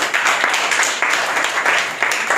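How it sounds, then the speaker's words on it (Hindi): Classroom applause for a student's handmade letter box, a dense wash of clapping from a group of schoolchildren, steady and fairly loud across the whole stretch. "तो अंकित के लिए एक जोरदार ताली हो जाए"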